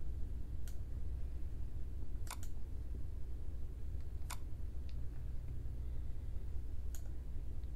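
Computer mouse clicks, a handful of sharp, isolated clicks spaced irregularly, including a quick double click, over a steady low background hum.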